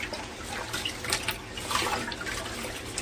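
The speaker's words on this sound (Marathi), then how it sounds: "बघा हे असे तांदूळ धुवून टाकायचे आहे" Soaked rice for anarse is washed by hand in water, giving a close, continuous swishing and sloshing with small splashes throughout.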